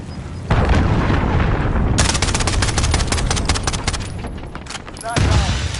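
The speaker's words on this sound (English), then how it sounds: "Enemy cruise missile incoming." Cruise missile strike and gunfire in the Modern Warfare video game: dense, loud bursts of rapid automatic fire and heavy booms that run nearly continuously, with a fresh surge of blasts near the end.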